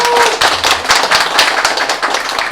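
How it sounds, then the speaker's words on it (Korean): Audience at a lecture event clapping together in a steady burst of applause, fairly loud and close, continuing throughout with no talk over it. "박수 한번 부탁드립니다"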